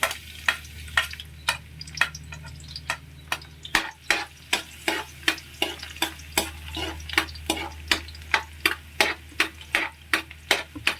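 Garlic frying in a pan for a vegetable stir-fry, a steady sizzle under evenly spaced sharp ticks of a utensil against the pan throughout.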